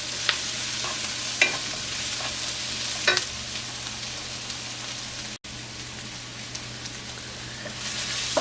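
Onions and curry leaves fry in a pan with a steady soft sizzle throughout, broken by a few faint spoon scrapes and clicks, with no talking.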